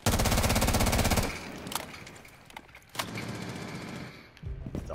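Rapid automatic gunfire from a first-person shooter game, a loud sustained burst of fast shots that cuts off, followed by a few scattered single shots and quieter game noise.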